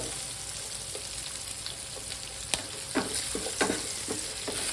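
Chickpeas with turmeric frying in a pan, a steady hiss of sizzling oil with several sharp spatula scrapes and taps toward the end, close and moderately loud, no voices.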